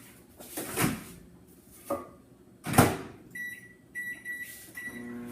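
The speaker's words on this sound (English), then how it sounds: "stick it in my microwave" Things are knocked and shuffled, then a microwave oven is shut and started with a few beeps, its low hum beginning under the tones before another beep sequence near the end.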